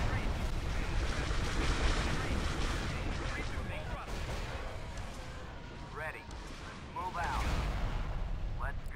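Weapons fire in a Star Wars space battle over Zygerria: a continuous wash of blaster shots and rumbling explosions, with voices chattering underneath throughout.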